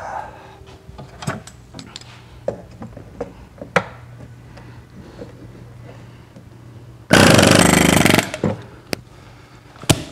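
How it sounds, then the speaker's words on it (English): An impact wrench works on aluminum fittings of a 1979 Super VW Beetle. Scattered clicks and taps of handling come first, then one loud, rattling burst of about a second. "Vibration wrench."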